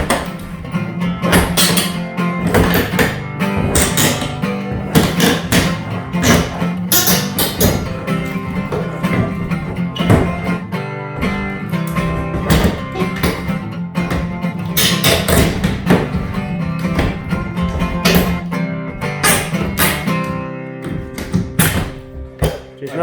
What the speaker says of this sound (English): with a pair of pincers, you just pop them out like that